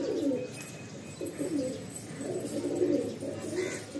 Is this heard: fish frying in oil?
no